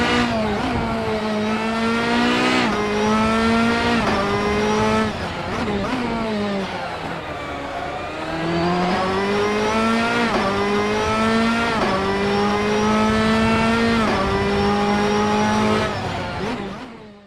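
A GT3 race car in an Assetto Corsa game mod drives and brakes like a Ginetta and runs short on straight-line speed. Its engine revs loudly and continuously through repeated upshifts and downshifts, with brief tire squeal.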